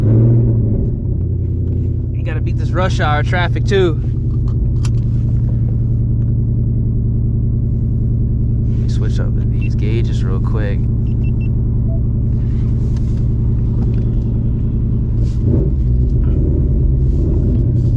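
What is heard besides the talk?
Ford Mustang GT 500hp engine while driving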